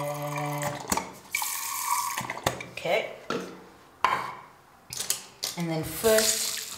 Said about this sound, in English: first run the brush under water as I would with this one